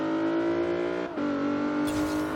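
A Lexus IS350 F Sport engine in Forza Horizon 3 holds a loud, steady high rev, dips briefly at a gear change, then climbs again, close and alone with no talk.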